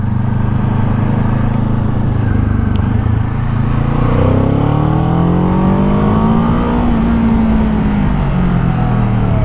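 A Kawasaki Ninja 7 Hybrid motorcycle rides along with a steady loud engine drone and wind rush, the pitch rising and falling through gear shifts as it accelerates and slows, heard close from the rider's position without talk.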